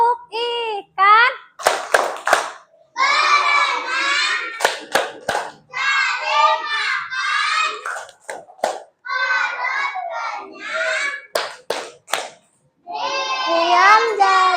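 Classroom children perform the tepuk ikan fish clap routine, chanting loudly together between bursts of crisp, rhythmic group hand claps repeated several times.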